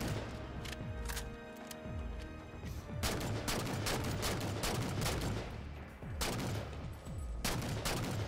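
Gunfire from the Halo Spartan Ops video game while fighting Elites: repeated loud bursts of rapid automatic shots with sharp impacts, close and dense, with no talking.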